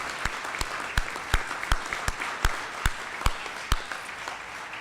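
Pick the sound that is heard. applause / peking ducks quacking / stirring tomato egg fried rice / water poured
applause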